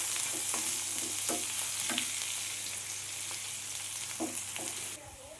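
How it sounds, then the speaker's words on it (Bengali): Chopped onion and a bay leaf fry in a pan for butter bhuna chicken, a continuous close sizzle punctuated by light spatula taps, dropping off sharply just before the end. "একটা তেজপাতা আমি দিয়ে দিলাম, দিয়ে আমি পেঁয়াজটাকে লাল করে ভেজে নেব।"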